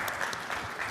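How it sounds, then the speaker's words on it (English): Audience applause welcoming a speaker from Oman's Information Technology Authority to the stage at an international conference, a dense continuous clatter of many hands that carries steadily through a brief moment. "Please give him a round of applause"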